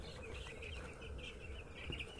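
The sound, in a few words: four-day-old broiler chickens on a poultry farm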